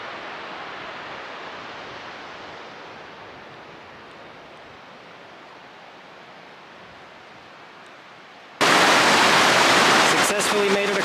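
The Zigzag River flows at a trail crossing as a steady broadband rush of water, moderately loud, which swells suddenly into a much louder, closer roar in the last few seconds.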